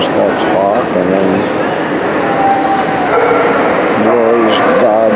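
Dogs yipping and whimpering at a best-of-breed judging on the second day of a dog show, short whiny bursts rising over a steady crowded indoor din with people talking throughout.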